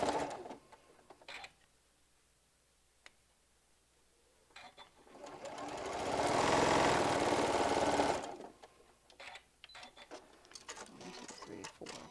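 A sewing machine stitches orange fabric pieces together for a hummingbird panel, running in one loud steady burst of about three seconds midway, with quieter handling noises and short bursts before and after.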